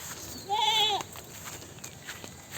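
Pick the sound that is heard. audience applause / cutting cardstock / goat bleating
goat bleating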